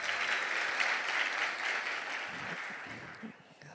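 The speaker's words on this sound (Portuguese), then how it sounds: "você pode aplaudir a vida dela" A congregation applauds a woman standing at the front during a family-themed sermon, broad even clapping that holds strong and then gradually tapers off, with a few scattered claps and murmurs near the end.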